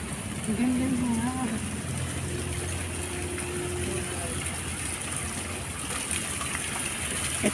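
Steady rush of water from a waterfall along the Victoria Peak hiking trail, a constant broadband roar heard from a moderate distance, with faint voices briefly audible near the start.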